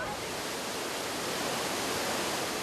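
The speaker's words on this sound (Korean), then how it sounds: "이 황과수 공원 안에 여러 개의 폭포가 있는데 이 폭포는 지상 폭포 중에서도 폭이 가장 넓은 폭포입니다" Huangguoshu waterfall in Guizhou, the widest of the park's waterfalls, a constant dense roar of falling water, steady and unbroken throughout with no talking.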